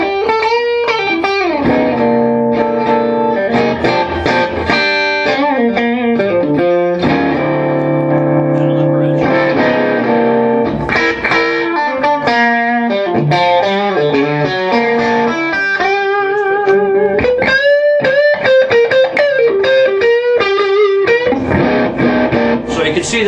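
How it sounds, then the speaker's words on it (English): A Terry McInturff Glory Standard electric guitar played on the middle pickup through a Matchless tube amp set for mild crunch, a continuous run of picked notes, chords and bends, steady and prominent, slightly distorted with a touch of reverb and no talking. "I'm playing through this matchless amp, as you can hear, it's set for a little bit of a crunchy thing"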